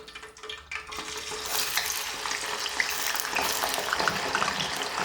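Chips frying in hot oil in a kitchen pan, a dense continuous sizzle and crackle that swells after a quieter start and stays loud and close throughout, with no talking.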